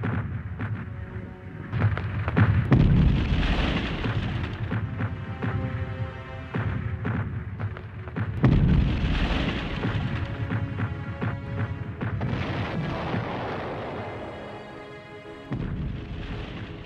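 World War I artillery barrage at Verdun in 1916: a dense, continuous roll of heavy shell fire with repeated loud booms and blasts overlapping one another, no voices.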